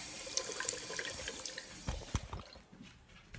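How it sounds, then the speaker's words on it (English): Water splashes and trickles close by as a fidget spinner is spun in water, with a few small plops and drips that fade toward the end. "And I spin it in the water."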